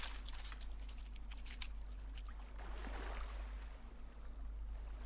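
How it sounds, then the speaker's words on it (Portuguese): A small river stream flows nearby in a forest camp, a faint, steady trickle and gurgle of water over a low constant hum, with a few brief clattering knocks early on. "Ah, tem outro riozinho aqui do lado."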